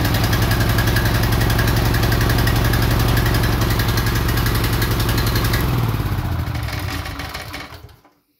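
A Honda GX390 engine on a 4,000 psi pressure washer runs with a loud, close, fast steady chug, then shuts off and winds down to silence near the end.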